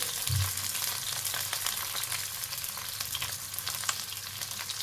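Pumpkin-leaf parcels stuffed with lentils fry in oil in a pan over a low gas flame, giving a steady close crackling sizzle with fine popping throughout and a brief low bump near the start.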